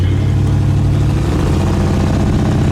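A 1960 Chevrolet Impala Bubble Top engine rumbles steadily through its exhaust, a deep, loud, close idle with a slight change in pitch midway.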